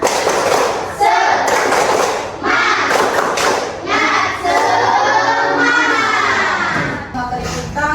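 An Indonesian classroom of students claps and chants in rhythm for a spirited clap routine, with loud, bursting hits and children's voices shouting along in close, lively bursts.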